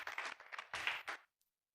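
A church congregation at a testimony gathering claps loudly together in several dense bursts, the applause cutting off abruptly after about a second and a quarter, leaving near silence.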